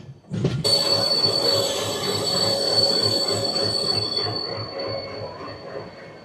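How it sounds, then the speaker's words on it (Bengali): Amrit Bharat Express on the Malda Town–Gomtinagar route runs through hilly terrain, its wheels giving a loud, sustained high-pitched squeal over a rumbling, rhythmic clatter of rolling stock. "পুরো পাহাড়ে কোল ঘেঁষে পাহাড়ের ভিতর দিয়ে আমাদের ট্রেন বেরিয়ে আসছে জামালপুর স্টেশনের উদ্দেশ্যে"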